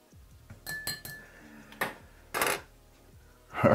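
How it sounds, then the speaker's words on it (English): Utensil stirring food inside a German military ration pack container, a few separate scraping clinks and knocks spread across a quiet few seconds. "Let's give it a little stir."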